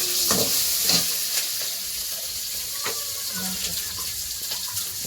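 Pieces of mutton pachouni are washed in water in a village kitchen, with sloshing and splashing, a few sharper clinks against a vessel, and running water throughout.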